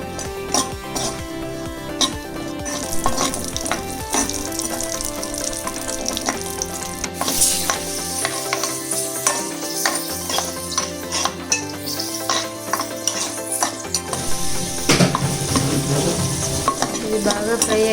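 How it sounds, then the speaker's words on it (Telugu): Cashews and raisins frying in a pan for jaggery payasam, with a loud close sizzle and constant metallic stirring and clinking of a spoon against the pan. "జీడిపప్పు, ఎండు ద్రాక్ష వేసి రెండు ఫ్రై చేసుకుందామండి"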